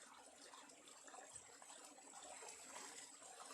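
Water poured outdoors for washing slippers, a faint, continuous splashing trickle heard from a short distance, steady throughout with no voices.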